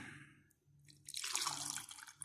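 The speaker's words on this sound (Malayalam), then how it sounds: "നമുക്ക് ഇതിനകത്തേക്ക് ഒഴിക്കാം മെത്തനോൾ" Methanol poured into a container holding an egg: after a quiet start, a steady, close splashing pour of liquid runs for about a second with no talking.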